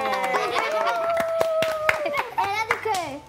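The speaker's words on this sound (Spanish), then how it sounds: "¡Un aplauso!" An audience on a Dominican television variety show claps in scattered, uneven bursts. Children's voices and lively talk ring out over the clapping.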